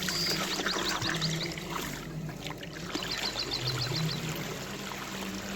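Fresh water is poured into a hookah base, a steady splashing, gurgling stream with a fluttery bubbling texture that carries on throughout at moderate loudness.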